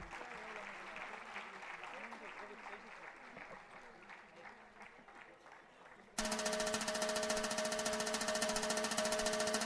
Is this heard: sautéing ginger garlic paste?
no